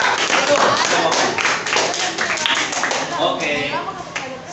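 Students in a seventh-grade civics class quiz clapping together, a burst of quick, close, uneven hand claps that gradually thins out amid classroom noise and voices.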